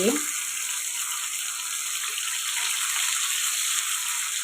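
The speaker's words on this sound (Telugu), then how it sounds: "ఇప్పుడు రెండో వైపు కూడా ఫ్రై చేసుకోండి" Fish frying in a pan of hot oil makes a steady, even sizzle that runs throughout at moderate volume with no pauses.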